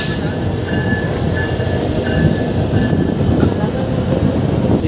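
A Modhumoti Express passenger train on the Dhaka to Rajshahi line rolls steadily near Gandaria station in Dhaka, with continuous loud low rumble and rattling of the carriages throughout.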